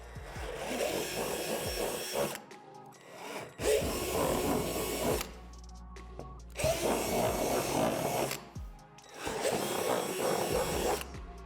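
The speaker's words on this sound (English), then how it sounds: "drill out the divots on the back side in between the slots with a 3/8" A power drill fitted with a 3/8 bit bores out divots between the slots on the back of a plastic playset panel, running in three long loud bursts with short pauses between them, no voices.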